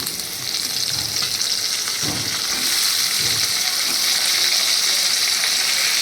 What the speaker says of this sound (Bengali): এবার দেখো আমার আলুগুলো লাল লাল করে ভাজা হয়ে এসছে। এবার এর মধ্যে দিয়ে দিচ্ছি আমি এই ঝিঙেগুলো।